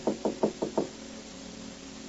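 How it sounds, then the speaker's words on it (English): Five firm knocks on an apartment door, staged as a radio drama sound effect, rapping in a steady even rhythm, followed by quiet room tone and a faint start of a voice at the end. "Then on the next night, a knock at Gloria's apartment door."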